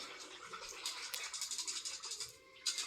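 A spray bottle filled with a homemade holistic product is shaken vigorously, giving a run of rapid rattling, sloshing strokes close to the microphone that last nearly three seconds and end with a sharper final jolt.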